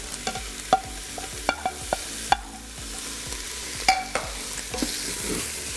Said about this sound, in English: once your steak's done, we're just gonna add the mushrooms and onions just right back in